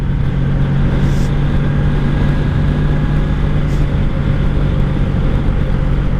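A 1984 Honda Sabre VF1100S motorcycle cruising in fifth gear on back roads, a steady loud engine drone with low rumble and wind noise throughout, unbroken and close.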